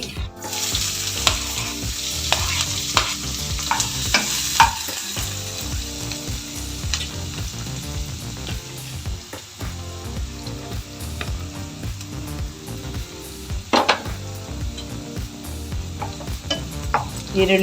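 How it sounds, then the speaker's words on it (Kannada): Onions and fennel seeds fry in three spoons of hot oil in a pan for a capsicum masala curry, a steady close sizzle with repeated scraping and clicking of a spatula stirring throughout, no speech. "ಹಾಕಿ ಚೆನ್ನಾಗಿ ಗೋಲ್ಡನ್ ಫ್ರೈ ಬರೋ ತನಕ ಫ್ರೈ ಮಾಡಿ"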